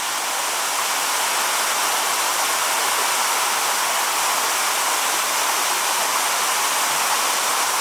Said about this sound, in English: There's a rather large water system.